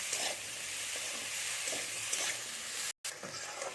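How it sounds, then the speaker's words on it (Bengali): Cauliflower for singara filling sizzles in hot oil as it is stirred in a pan, with occasional scraping strokes and a brief break near the end. "এবার এর সাথে কিন্তু ভালো করে নাড়তে থাকবো যেমন ফুলকপিটা যেন ভাজা হয়ে যায়"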